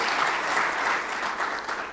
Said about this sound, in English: he deserves a big round of applause from all of us here